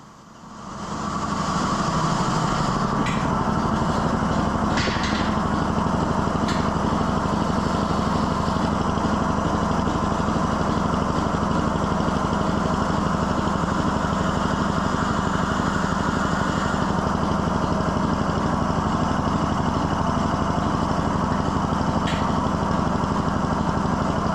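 The number 2 air compressor runs in an engine room, charging the air receivers with a loud, continuous mechanical drone that holds steady throughout without a break.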